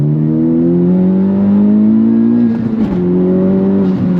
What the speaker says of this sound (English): I'm gonna do a second gear pull in street 1 now and show you what I'm talking about